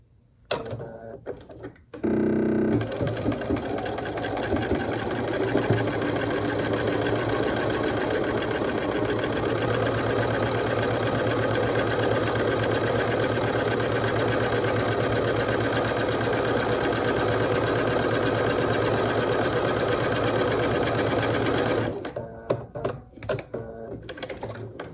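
A sewing machine stitches batik fabric strips in one long, loud, continuous run of about twenty seconds, its steady motor hum broken only by brief handling clicks at the start and end.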